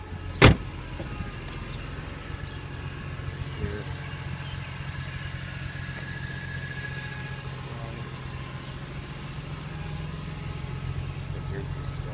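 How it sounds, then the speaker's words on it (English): A 2002 BMW M3 engine runs steadily at idle, heard from a distance as a low, even hum that holds for the whole stretch, with one sharp click near the start and no voices. "I'll go ahead and show you what the car sounds like from the distance."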